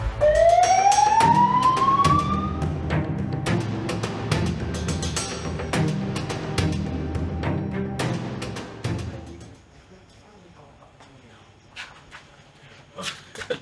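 An ambulance siren wails loudly at first, rising in pitch, then fades into a busy street scene with traffic and a barking dog, thinning out toward the end.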